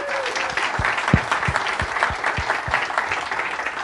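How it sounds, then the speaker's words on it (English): A studio audience in Houston breaks into steady, full applause for celebrity guests, a dense wash of clapping with soft low thumps mixed in and faint voices beneath. "Let's give them one other big hand of applause."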